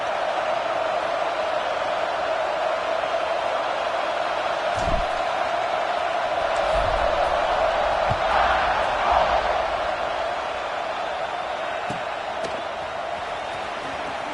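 A football stadium crowd gives off a constant broad roar at kickoff, loud and distant-sounding, with a few thuds and a brief swell midway before it eases slightly.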